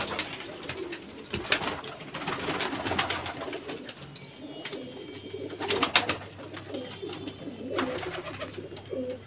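Pigeons, including a Deobandi jaaldar kalsi breed, coo repeatedly at close range in soft rolling calls, with occasional wing flutters and scuffling sounds.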